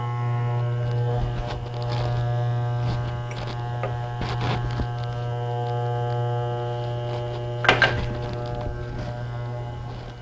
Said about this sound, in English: ensure that the clipper guard doesn't come off while I'm cutting my hair